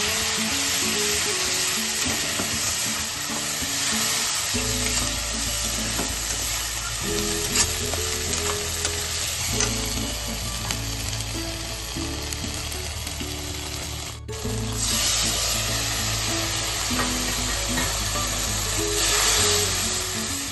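Onion and spice paste sizzling steadily in a hot pan for a Bengali palak paneer, a dense continuous frying hiss with occasional scraping stirs and faint background hum.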